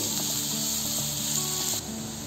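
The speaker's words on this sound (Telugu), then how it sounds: "ఇవి కొంచెం కలర్ మారి బ్రౌన్గా వేగే వరకు వేయించుకోవాలి" Chopped onions and cashews frying in hot oil for a curry made with split milk, giving a steady, close sizzle that runs throughout and softens slightly near the end.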